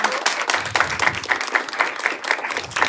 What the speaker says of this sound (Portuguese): Uma salva de palmas para Andréa.